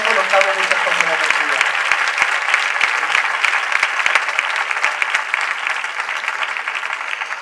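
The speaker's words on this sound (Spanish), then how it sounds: "Un aplauso muy fuerte para él" An audience at a Christmas choir presentation applauds strongly, a dense sustained wave of clapping that stays loud throughout and thins slightly toward the end.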